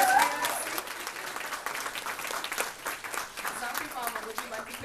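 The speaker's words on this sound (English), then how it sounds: "Gotta give her a round of applause for her trip." A convention panel audience at KCON claps in sustained, fairly close applause with a voice talking over it.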